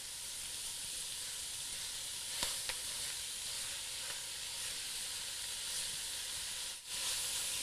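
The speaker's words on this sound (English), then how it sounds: "we're just going to start to break up the meat so it can start to cook and lose its pink color" Ground meat with onions, garlic and spices sizzles steadily in a pan for chili, a loud continuous frying hiss with a few faint clicks of stirring as the meat is broken up.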